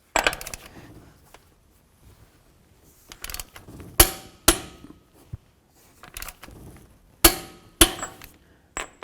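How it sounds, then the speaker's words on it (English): A torque wrench on the front axle nut of a 2007-2014 Cadillac Escalade gives a series of sharp metallic clicks and clacks, spaced irregularly with quiet gaps in a workshop setting. "It's time to torque down this axle nut"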